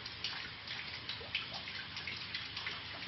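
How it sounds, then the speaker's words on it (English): Water spraying from a busted copper sprinkler line pipe inside a Dollar General store in Jackson, Mississippi, heard as a steady hiss with patter and splashes throughout, fairly faint and continuous. "it's spraying out of that sprinkler line pipe right there."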